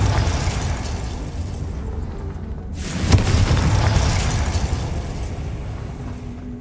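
Confringo blasting spell in Hogwarts Legacy, a sudden whooshing burst that swells into a booming explosion, then a sustained rumbling roar that slowly fades under steady background noise.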